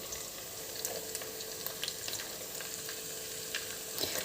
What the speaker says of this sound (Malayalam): ഇതൊന്ന് ജസ്റ്റ് ഒന്ന് വഴറ്റിയെടുക്കുക എല്ലാം കൂടെ